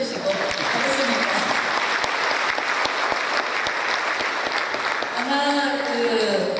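Sustained audience applause at a 2012 unification talk concert in Korea, dense clapping from a large crowd that holds steady throughout, with a few sharper claps standing out and a voice speaking near the end.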